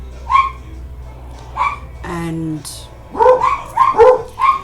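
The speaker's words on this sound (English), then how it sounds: "That's my dogs." Several dogs bark in the background, sharp and fairly close, in repeated bursts of single and clustered barks. A person speaks in between, with a brief whistling tone in the middle.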